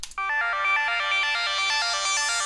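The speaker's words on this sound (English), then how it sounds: "this is just kind of giving this sound this kind of bandpass sweep" A synth patch built in NI Massive plays a rapid sequence of bright, bell-like notes with a slow attack and a bandpass filter sweeping through the tone, clear and alone without voices.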